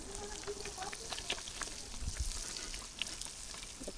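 Hilsa fish pieces frying in hot oil give off a steady, close sizzle, with faint scrapes and clinks as the pieces are lifted out one by one.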